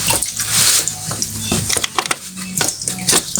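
Coolant splashing and trickling as it drains out of an Audi TDI coolant pump, a steady close wet patter broken by a few sharp knocks and drips.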